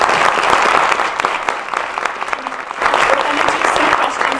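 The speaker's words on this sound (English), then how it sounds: "Let's give him a round of applause." An audience at an education lecture gives a round of applause for the guest speaker, loud dense clapping that dips briefly partway through and then swells again.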